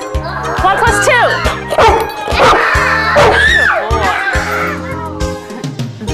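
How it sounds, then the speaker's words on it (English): Trained dog at a preschool trick show barking repeatedly in answer to counting cues, short sharp barks and yips in quick bursts, with a person talking throughout and an audience around. "And she should bark one time for each finger I hold up."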